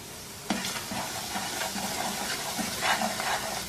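Semolina roasts in ghee with cardamom, giving steady sizzling and frying hiss from a pan, with occasional stirring scrapes and soft clinks close by.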